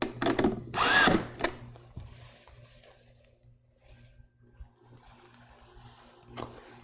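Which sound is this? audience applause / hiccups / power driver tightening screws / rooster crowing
power driver tightening screws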